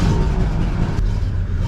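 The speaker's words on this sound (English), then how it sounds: "Wow, I've never started a car from the 30s." A 1939 Ford Deluxe engine runs right after starting, a steady, close, loud low rumble with a brief rising rev near the middle and no talk over it.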